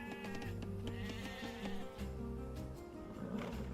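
Sheep bleat in an Age of Empires II match, several short wavering calls overlapping on a busy game soundtrack with other layered effects, fairly quiet and continuous.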